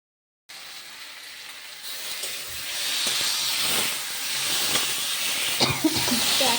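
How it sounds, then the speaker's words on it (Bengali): A curry is sautéed in a pan in a home kitchen, giving a steady, close hiss and sizzle that builds slightly and continues without speech. "তো এখন আমি এই রান্নাটা কষাচ্ছি"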